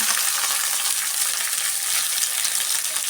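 Onions fry in a generous amount of oil for onion thokku, giving a loud, dense and continuous sizzle close by with no voices.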